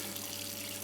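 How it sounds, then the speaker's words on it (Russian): Tap water running steadily as a small drone is rinsed under it, a constant soft hiss with no other sounds in the brief moment. "Промыли дрон проточной водой."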